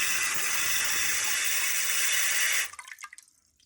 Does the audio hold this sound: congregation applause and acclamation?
no